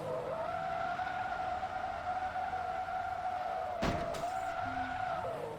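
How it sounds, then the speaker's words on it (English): A car's handbrake turn in the racing game Forza Motorsport 2 gives a long, loud, steady tire squeal over engine drone, broken by a sharp burst near the end; no voices. "I can do my customary handbrake turn"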